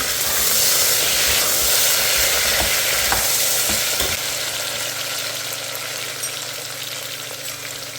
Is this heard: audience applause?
no